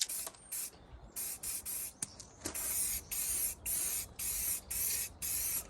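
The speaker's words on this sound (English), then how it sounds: "whilst we are spraying up that insert panel" Spray gun bursts while an insert panel for a Land Rover Defender pop-top roof is painted, a series of steady hissing blasts, each a second or so long, separated by brief pauses and heard close and alone.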